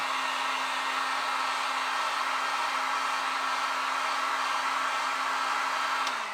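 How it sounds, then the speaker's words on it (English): A Harbor Freight heat gun blows with a steady, loud, even whoosh and a constant motor hum, running alone without a break before cutting off at the end. "We could also simply run a heat gun, Harbor Freight heat gun."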